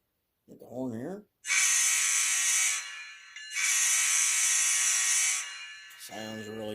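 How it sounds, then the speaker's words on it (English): A ScaleTrains EJE GEVO model locomotive sounds its horn in two long, bright blasts separated by a short gap. Someone speaks briefly before and after the horn. "And we'll get the horn here."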